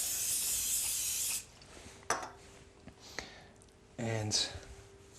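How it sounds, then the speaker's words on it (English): Olive oil spray hisses loudly into a hot pan, then lamb loin fillets sizzle as they sear, with short clatters and bursts of sizzling in a kitchen. "So that's searing quite nicely."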